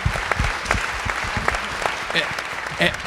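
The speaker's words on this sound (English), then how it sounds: "Give yourselves a round of applause for coming." Audience at a Miami real estate brokers' panel breaks into applause, scattered uneven claps with distinct sharp hits rather than a full wash, fairly close, with some murmuring voices mixed in.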